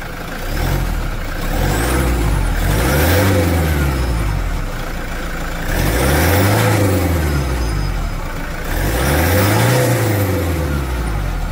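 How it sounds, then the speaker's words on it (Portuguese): A 2014 Toyota SW4 diesel engine revved three times in a row, each rev swelling and falling back to a steady idle, heard close by. "Acelera, Pena, um pouquinho."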